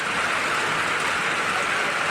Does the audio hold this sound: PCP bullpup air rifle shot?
no